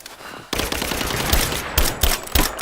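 Loud gunfire in a Rise of the Tomb Raider firefight breaks out after a quiet moment, sustained crackling volleys punctuated by several heavy thumping shots.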